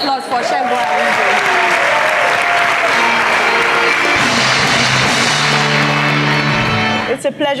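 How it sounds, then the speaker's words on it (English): A talk show studio audience breaks into loud, sustained applause for guest Segun Arinze, dense clapping close up that holds at full strength, with cheering and voices mixed in before it tapers at the end. "Another round of applause for Segun Arinze"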